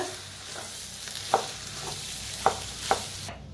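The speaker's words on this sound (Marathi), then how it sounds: "आता ह्याच्यातच टाकूया आपण बटाटो। बटाट्याला एकदा करून घेऊया मिक्स।" Potatoes being mixed into a fried tempering in a pan for vada pav filling, a low steady sizzle with a few light spoon strokes knocking against the pan, close and fairly quiet; no talking.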